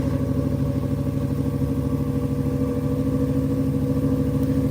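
An off-road vehicle's engine runs steadily and loud at close range with a dense, rumbling, clattering drone, revving throughout while the vehicle spins donuts at an off-road gathering.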